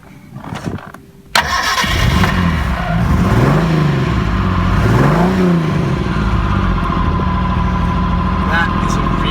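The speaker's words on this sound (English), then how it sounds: "let's have a listen to that engine" A Marcos GT V6 engine with an electric fuel pump cranks and fires, then settles into a loud, close, rumbling idle with a few gentle rises in revs, continuing steadily to the end.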